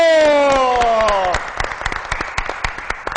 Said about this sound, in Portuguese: vamos aplaudir o nosso presidente, doutor Valdir Vitório!